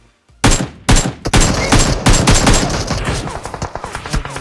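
Rapid bursts of AKM rifle fire in a battle royale video game, loud and close, with dense overlapping shots and a few short pauses between volleys.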